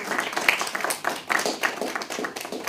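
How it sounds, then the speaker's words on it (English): An audience at a student presentation claps for a few seconds, the patter of hands fairly close and steady and no one talking over it. "Round of applause"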